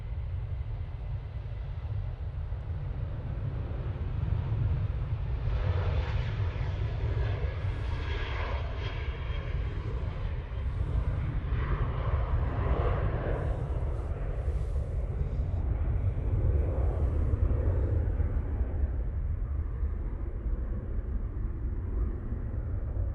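A TUI passenger jet bound for Turin passes overhead at Manchester Airport, a steady low engine roar with a rising and falling whine that lasts throughout, loud and continuous with no talking.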